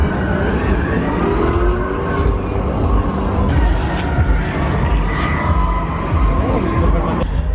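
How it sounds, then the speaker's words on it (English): A BMW E30 drift car with a Mercedes V8 at a German drift event, its engine roaring steadily with crowd noise around, under loud ongoing talk. "This thing is an E30 with,"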